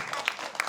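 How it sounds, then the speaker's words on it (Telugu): A group of children clap their hands during a health talk, a brief, close burst of mixed claps with a couple of sharper accents standing out. "wow, wonderful, clap hands"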